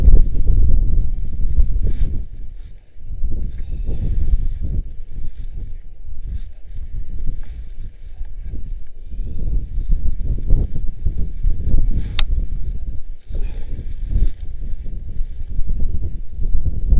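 Strong wind batters the microphone in a continuous low rumble and roar while fishing for pike with a spinning rod from a boat, loud and gusty throughout, with no clear talk.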